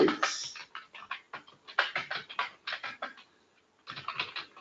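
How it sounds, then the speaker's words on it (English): A computer keyboard typed on in a Linux shell scripting class: bursts of quick, close key clicks with short pauses and a longer gap near the end. "Just I am typing something."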